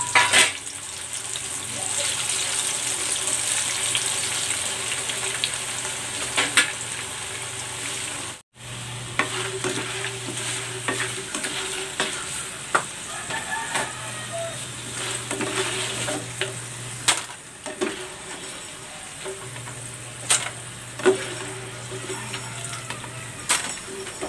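Sweet potato (kamote) chips fry in hot oil with a steady sizzle, punctuated by stirring and a few clinks over a low hum, with no talking.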